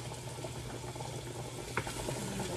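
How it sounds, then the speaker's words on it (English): Butter and vegetables sauté in a pot as the base of a creamy partridge gnocchi soup. A steady, close bubbling sizzle runs throughout, with one brief clink near the middle. "You can see it's starting to saute."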